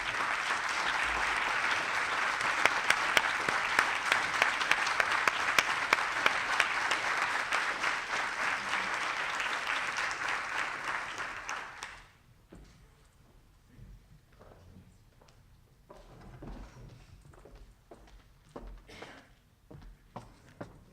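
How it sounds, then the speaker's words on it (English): Applause from an audience at a global health summit on vaccine development, steady and full for about twelve seconds before dying away to scattered claps and shuffling in a large hall. "So I would like for the members of CVD-Mali and CVD to stand up for a round of applause."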